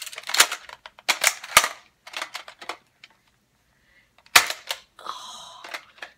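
A toy gun fires in a Russian roulette game, with several sharp cap-gun-like cracks in quick succession, a pause, then another loud pop followed by a brief gasp-like sound.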